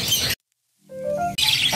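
A short, high bird chirp sounds between bursts of noise, a brief tweet that rises and wavers before rustling handling noise cuts back in.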